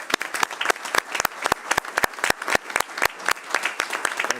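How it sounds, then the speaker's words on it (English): A round of applause rises in a meeting hall during an executive committee session, a fairly dense patter of many hands clapping at an even pace, close and sustained throughout. "May I ask you to give a round of applause to the NAO auditors."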